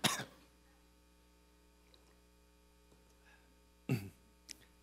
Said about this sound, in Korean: 원래 기침이 한번 나오기 시작하면 계속 나오죠.